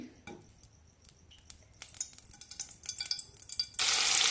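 Oil and ghee begin to heat in a pan, starting with light taps and clinks that build into a steady, close sizzle toward the end.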